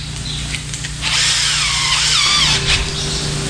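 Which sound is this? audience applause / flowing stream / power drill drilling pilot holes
power drill drilling pilot holes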